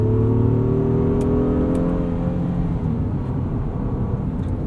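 A 2023 Honda Pilot SUV engine revs steadily in sport transmission mode, its rising harmonic drone shifting pitch as gears change, loud and continuous with road noise and no talk.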